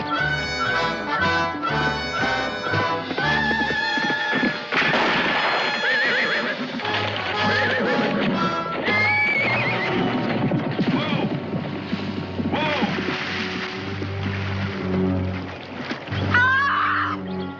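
A horse in a western frontier setting neighs and whinnies loudly over a dramatic orchestral score, with clip-clop hoofbeats running through the passage.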